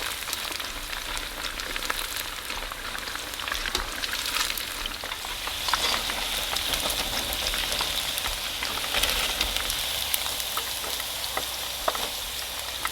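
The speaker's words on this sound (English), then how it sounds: "As it's frying, the tofu will have a tendency to stick to each other" Steady, close sizzling of tofu frying in hot oil, with a constant crackle and pops throughout and no talking.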